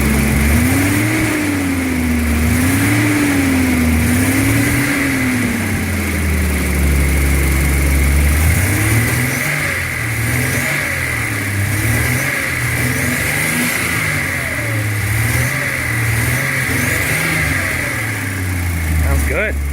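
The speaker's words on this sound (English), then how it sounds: "Rev it up a little." A 1976 Datsun 280Z engine revving close by, rising and falling through several throttle blips, then settling into a smooth, steady run with repeated light revs, loud throughout.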